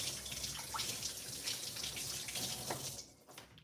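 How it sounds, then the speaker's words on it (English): Tap water runs steadily into a kitchen sink while hands are washed, a close continuous splashing flow that stops near the end. "Let me wash the turkey off my hand."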